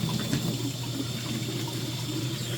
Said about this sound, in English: A little bit more rinsing just to get as much off as we can.